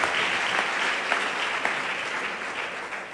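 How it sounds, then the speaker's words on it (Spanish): A church congregation at an IPUC service fills the room with dense, even applause that holds steady and then eases slightly toward the end. "Dando un aplauso,"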